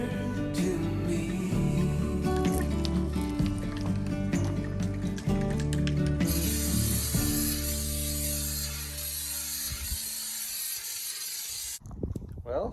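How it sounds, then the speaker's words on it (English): Flex Seal coating is sprayed onto a barrel fountain, heard as a steady hiss over a low mechanical rumble that carries on throughout, with the hiss growing brighter and louder in the second half. "first coat is done with the Flex Seal"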